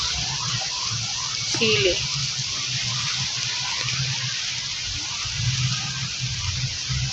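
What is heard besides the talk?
vinegar being poured into a cooking dish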